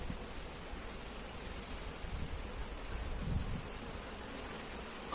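Honey bees buzz steadily around wooden bee boxes set in a coconut grove, a continuous soft hum with a broad airy hiss spread across the whole span, no voices.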